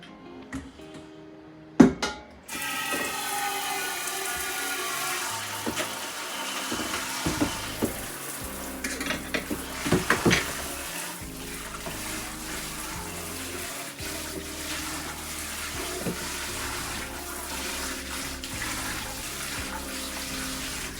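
Tap water runs steadily into a kitchen sink as a dish is rinsed out beside a pot of Zuppa Toscana soup, with a clunk first, then a continuous rushing flow and occasional knocks.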